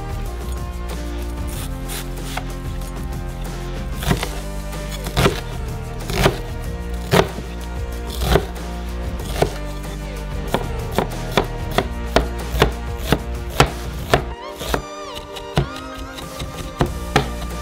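A knife chops a large peeled onion finely on a board in quick repeated strokes that quicken toward the end, partly buried under loud steady background music.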